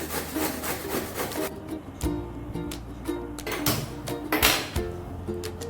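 Peeled bottle gourd (lauki) rubbed against a grater for kheer, giving repeated rasping strokes in an irregular rhythm, close and moderately loud, with a few sharper knocks and no talking.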